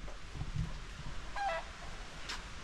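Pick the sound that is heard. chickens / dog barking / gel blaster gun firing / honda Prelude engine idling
chickens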